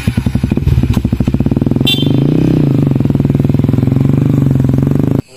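A motorcycle engine runs steadily nearby with a fast, regular putter, briefly revving, then idling at an even beat before cutting off abruptly.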